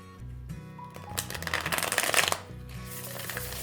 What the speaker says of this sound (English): These cards shuffle so beautifully.